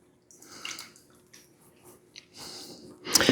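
Strawberry mixture gently poured over a cream cheese mixture for a strawberry pretzel salad dessert, making soft, intermittent wet squishes and glugs close by, ending in a louder splash.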